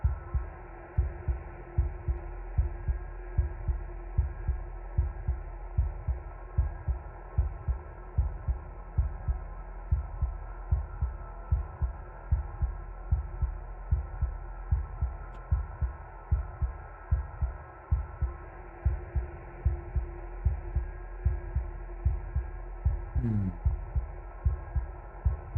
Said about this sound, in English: But look at that, the heartbeat is getting a bit faster.